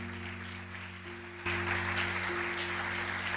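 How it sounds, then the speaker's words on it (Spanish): A church congregation breaks into applause that swells suddenly and holds steady, with a sustained electronic organ or keyboard chord droning underneath. "Dale un aplauso bien fuerte a esta palabra."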